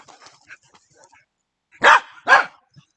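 A dog at an agility training session on a DIY backyard course gives two loud, close barks in quick succession, after a stretch of faint, scattered background sounds.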